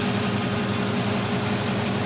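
Chevy 350 V8 fitted in a Pajero idles through a free-flow muffler, a steady low rumbling drone that holds constant throughout with no talk.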